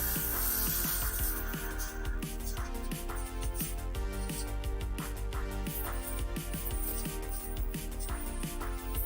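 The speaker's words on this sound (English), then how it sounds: "pull back on the trigger, color flies out" An airbrush sprays paint onto a Warhammer Age of Sigmar Stormcast Eternals Prosecutor miniature with a steady, close hiss that runs the whole time over a constant mechanical hum, marked by small clicks.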